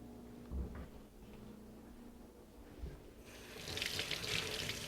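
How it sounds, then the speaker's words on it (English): Kitchen tap water runs while hands are rinsed at a home sink, faint at first and then a louder, steady gush of running water over the final seconds, with no speech. "Rinse my hands."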